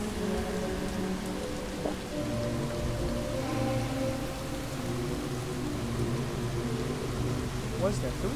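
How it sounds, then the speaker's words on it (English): Steady rain in Fallout 4 patters on surfaces with a constant hiss, mixed with a low ambient drone and occasional faint distant rumbles. "It's raining"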